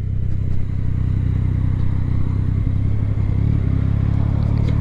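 A Yamaha XSR900 motorcycle accelerates under throttle, its engine giving a loud, close, steady roar with a rough pulsing note throughout and no speech.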